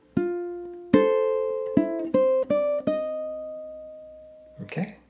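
Bright plucked ukulele notes and chords from Scott Joplin's ragtime piece The Entertainer ring out in a syncopated, bouncy rhythm, each letting ring, followed by a brief strummed flourish at the end.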